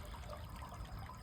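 Sewage gushes from an unclogged septic line into the tank in a continuous, close, rushing flow with no voices.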